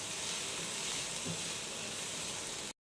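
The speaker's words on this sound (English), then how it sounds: "And I'll saute it nicely." Ingredients for methi chicken tikka masala sautéing in a hot pan, a steady, dense sizzle and hiss that holds evenly for nearly three seconds, then cuts off abruptly.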